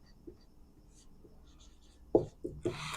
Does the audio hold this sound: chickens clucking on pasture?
no